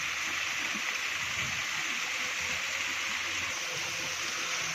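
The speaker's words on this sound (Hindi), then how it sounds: "बिल्कुल छोटी सी आबशार है" A small waterfall beside Jammu Road in a valley, water falling steadily from above into a pool, producing a continuous close rushing and splashing wash with no pauses and no voices.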